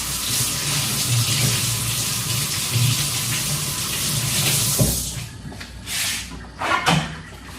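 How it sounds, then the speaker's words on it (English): Mushrooms being rinsed under a running kitchen tap, a steady splashing stream of water that stops after a few seconds, followed by a few handling clatters and knocks at the sink. "I'm washing my mushrooms because that's how I roll"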